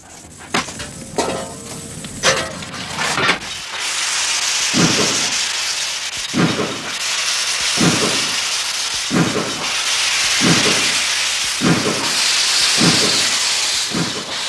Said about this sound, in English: Steam engines evoke a special affection.